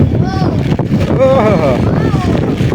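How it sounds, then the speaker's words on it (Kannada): Heavy rain driven by gusty wind outdoors, strong enough to wreck an umbrella, makes a constant rushing roar close to the microphone, with voices speaking over it. "ನೋಡಿ ಫ್ರೆಂಡ್ಸ್ ಹೆಂಗ್ ಮಳೆ ಬರ್ತಾ ಇದೆ."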